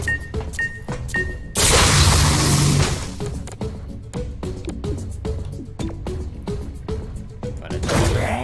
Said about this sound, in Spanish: ¡Va una granada!